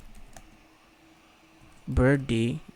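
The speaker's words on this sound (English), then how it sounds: "I'm just typing it, adding keywords." Typing on a computer keyboard, heard as faint, scattered key clicks at low level, with a louder voiced sound breaking in near the end.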